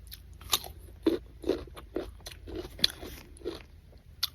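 Crunchy nectarine bitten and chewed close up, a series of crisp crunches at an uneven pace, each followed by soft chewing, with no talking.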